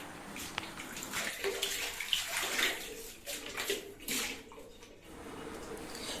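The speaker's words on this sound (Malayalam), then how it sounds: "കുറച്ച് വെള്ളം ഒഴിച്ച് ക്ലീൻ ചെയ്യാം" Water pours and splashes steadily onto a health faucet being cleaned during a leak repair, a continuous rushing wash with slight variations in intensity.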